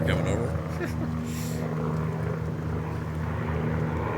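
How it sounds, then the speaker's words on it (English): A helicopter passes overhead, making a loud, steady rotor and engine drone with a strong low hum throughout, while people keep talking under it. "So we've got a helicopter coming over."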